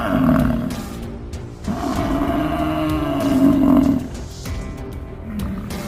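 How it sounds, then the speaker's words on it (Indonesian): A lion lets out deep, rumbling roars and growls at close range while attacked by a buffalo herd, mixed with grunting from the buffalo. "Sekelompok kerbau secara aktif menyerang seekor singa."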